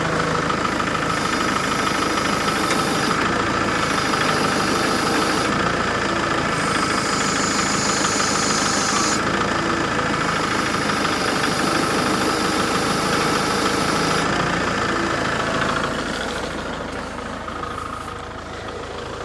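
A tractor engine runs steadily while lifting a 55 gallon drum ballast hooked to a scale, a loud close mechanical chugging drone with knocking texture that holds for most of the stretch and then eases down toward the end.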